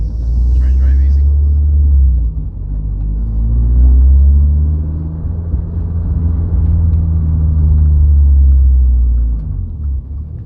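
A 2022 Subaru BRZ fitted with an MXP SP cat-back exhaust drones loudly and steadily while driving, its low rumble swelling and easing gently as the revs shift.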